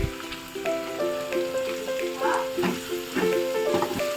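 Ginger-garlic paste hits hot oil in a pan for a country-chicken egg fry, giving a steady close sizzle and crackle that runs under layered sustained musical tones.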